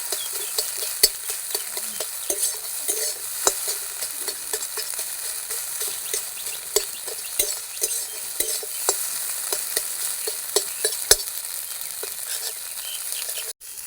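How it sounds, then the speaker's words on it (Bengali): Eggs for egg bhujiya frying in a pan, a continuous soft sizzle broken by repeated scraping clicks of a spatula as they are stirred, close and fairly quiet. "ভাজা হয়ে গেছে, এবার নামিয়ে নেবো ডিমগুলো"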